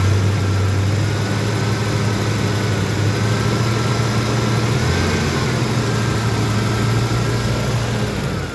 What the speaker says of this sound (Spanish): Entonces, si yo acelero...